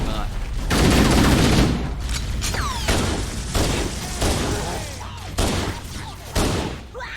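Loud bursts of the player's own gunfire in Halo: CE, rapid volleys and single shots with mechanical clanks, close and punchy, with a voice talking between shots.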